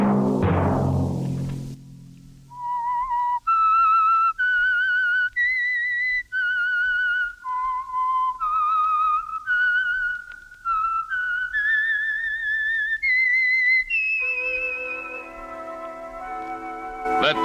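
A lone whistler carries the theme tune of The Whistler radio mystery show, a clear melodic line of sustained, gliding notes. A brief burst of other sound comes before it, and the final notes give way to orchestral accompaniment.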